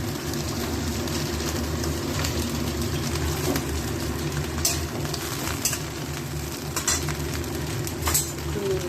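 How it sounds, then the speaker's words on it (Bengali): Cauliflower florets frying and being stirred in a pan, a steady loud sizzle with intermittent scraping and clinks of a utensil against the metal, no voices. "আর ফুলকপিগুলো একটু ভালো করে লাগিয়ে চালিয়ে ভেজে নেব।"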